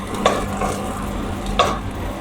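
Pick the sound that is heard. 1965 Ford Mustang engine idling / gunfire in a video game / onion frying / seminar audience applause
onion frying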